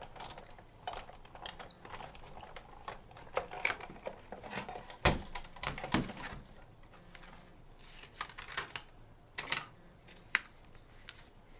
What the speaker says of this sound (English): I'm going to die cut the small heart out.